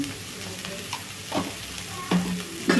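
Broad beans with a little turmeric frying in oil in a pan, stirred with a spatula: soft steady sizzle broken by a few louder scraping strokes near the end, close and moderately quiet, with no talking.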